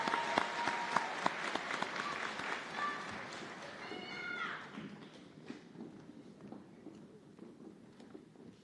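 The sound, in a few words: audience applause at white coat ceremony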